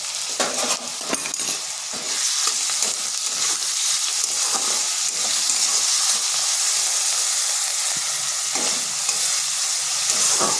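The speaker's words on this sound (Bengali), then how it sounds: "এইভাবে কিছুক্ষণ নেড়ে নিচ্ছি, তাতে টমেটোটা নরম হয়ে গেছে।" Chopped tomatoes, salt and green chilies frying in a pan, stirred now and then; a loud, steady hissing sizzle with brief spatula scrapes near the start and again later, no speech.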